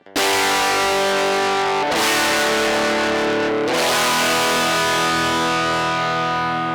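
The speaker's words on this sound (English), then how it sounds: "I swapped out the TS9 for one of our new products, the classic V9 distortion pedal" A heavily distorted electric guitar played through a V9 distortion pedal rings out loud sustained chords, struck three times and left to sustain, with no voices.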